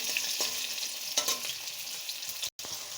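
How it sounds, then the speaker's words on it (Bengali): Potatoes frying in hot oil sizzle steadily while a spoon stirs them with a few scraping clicks, close-up in a home kitchen. "আমি এখন দিয়ে দেব আলুগুলো তেলে দিয়ে আমি ভেজে নেব।"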